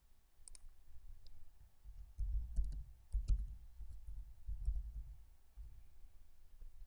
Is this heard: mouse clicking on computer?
yes